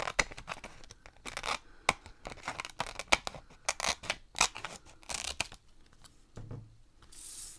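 Scissors snipping through paper for a handmade spring Mother's Day card, a rapid series of crisp close-up cuts followed by a light rustle of the paper being handled.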